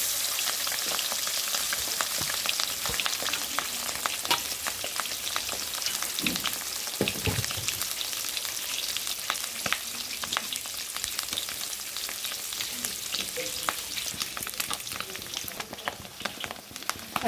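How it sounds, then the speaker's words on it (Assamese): Fish roe coated with salt and turmeric sizzles in hot mustard oil in a karahi, a continuous crackling fry with scattered sharp pops and a few soft thumps, close and steady throughout. "মাছৰ কণীখিনি মই নিমখ হালধি সানি ভাজি ল'ম এনেকৈ"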